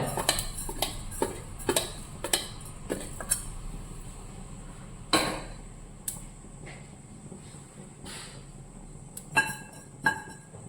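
Mustard seeds pop in a hot pan with sharp, scattered crackles and clicks, irregular and fairly quiet, with no talking.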